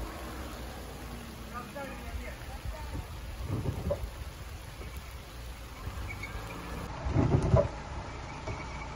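Rain falls outdoors on a trip to the large Fanagoria cave, a steady soft hiss that runs the whole time, with low rumbles swelling twice and voices faintly under it.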